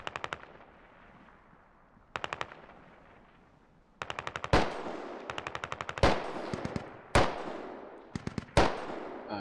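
An exchange of gunfire in the video game Squad, with quick bursts of automatic rifle fire broken by several louder, booming single reports. The volleys repeat steadily, some sounding near and others farther away.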